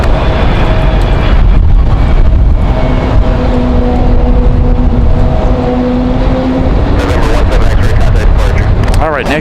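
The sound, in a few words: Republic Airways airliner arriving at RDU airport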